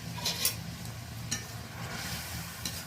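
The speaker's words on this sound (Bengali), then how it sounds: "একটু ভালো করে নাড়াচাড়া করে নেব।" Ground spices and a little hot water are stirred in a pan, producing a soft frying hiss with occasional light scrapes and clinks of the spoon against metal.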